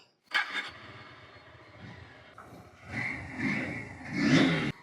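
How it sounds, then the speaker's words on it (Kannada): Honda NX 200 motorcycle with a 184cc engine pulling away on a test ride, the engine revving up in rising surges after a sharp start, loud and close. "ಸೊ ಬನ್ನಿ ಟೆಸ್ಟ್ ರೈಡ್ ಮಾಡೋಣ, ಹೆಂಗಿದೆ ಬೈಕ್ ನೋಡೋಣ"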